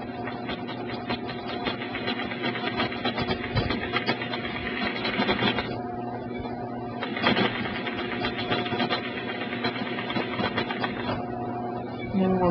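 A domestic sewing machine stitches quilting feathers on a quilt, humming in a steady close mechanical whir with the rapid needle rhythm slowing and pausing briefly twice.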